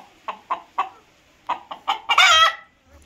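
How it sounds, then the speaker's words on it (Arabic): A rooster clucks several times in short, spaced bursts, then gives a brief, loud crow. "ده صوت الديك"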